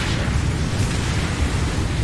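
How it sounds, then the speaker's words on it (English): Heavy Katyusha rocket explosions in Splinter Cell: Blacklist form a dense, continuous rumbling roar of booms, loud and sustained with no talking over them. "Sounded like Katushas."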